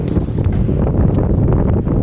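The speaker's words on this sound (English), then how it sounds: "It's so windy." Strong wind buffets the microphone on a pier, a continuous low rumbling roar with gusty fluctuations and no speech.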